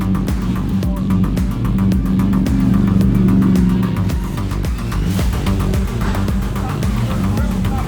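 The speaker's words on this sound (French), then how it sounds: "Là c'est la Mercedes de l'équipe." Team Mercedes race car at the Dubai 24 Hours, a steady loud engine drone throbbing throughout with low rumbling tones, close and continuous, with faint background voices.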